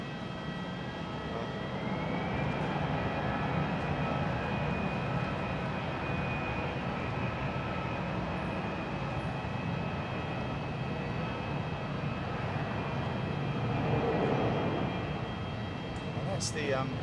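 An airliner on an intersecting runway at Hamburg Airport, a steady distant jet roar with a faint high whine, sustained and even throughout while someone talks over it.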